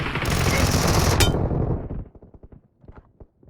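A Vector gun in the PUBG Mobile video game fires a dense, rapid burst of automatic gunfire, close and loud, ending abruptly, followed by scattered light clicks and steps.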